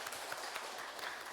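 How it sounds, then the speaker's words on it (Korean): Congregation applauding during a Korean church service, a dense, steady patter of many hands clapping at moderate distance for the whole stretch, with no voices over it. "하나님께 박수로 감사하도록 하겠습니다"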